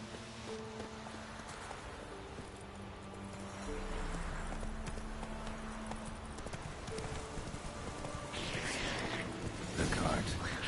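Roach, the horse in The Witcher 3, clip-clops with steady rhythmic hoofbeats that grow louder and nearer partway through, over ambient game sound with a brief voice near the end.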